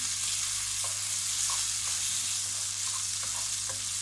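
A tablespoon of butter sizzles and fries in a pan for a vegetable summer pilaf, a steady close crackle with small pops throughout and no talking.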